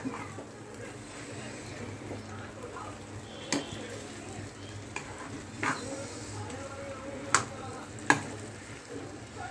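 A wooden spoon stirs prasad sheera, a sweet semolina halwa, round a ghee-coated kadhai. A soft, steady sizzle runs throughout, broken by a few sharp clinks and scrapes against the pan.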